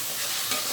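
Chicken stir-fried in masala for pepper chicken, a brief burst of dense sizzling and frying hiss, close and loud, with no talk.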